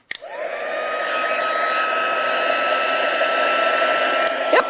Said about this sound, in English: It's the heat tool warning time. Things are going to get noisy